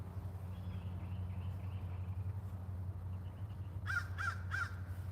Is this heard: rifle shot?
no